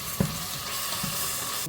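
Ground masala paste hitting hot oil after tomatoes have softened, a steady broad sizzle with a couple of soft stirring knocks, close and fairly loud, ending abruptly.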